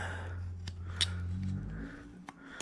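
Scissors snip out a shape in a few sharp, close cuts spaced irregularly over a couple of seconds, with a low hum underneath.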